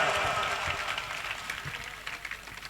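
A crowd applauds at a live devotional music event with sustained, dense clapping that gradually fades, heard close and steady throughout.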